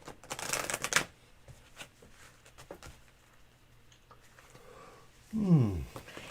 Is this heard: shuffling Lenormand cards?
yes